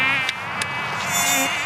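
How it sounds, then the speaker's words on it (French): Mosquitoes whine close by, a thin, continuous high-pitched buzz that swells and fades slightly as they move around, with no voices. "Le nombre de moustiques qu'il y a."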